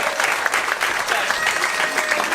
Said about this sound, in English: Round of applause, Kristina.